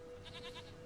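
A goat in the video game The Witcher 3 gives one short, quivering bleat close by over a faint ambient hum.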